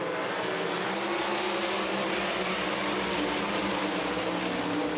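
Mod Lite race cars roar down the backstretch at I-80 Speedway in a dense, continuous engine drone that stays loud and steady throughout.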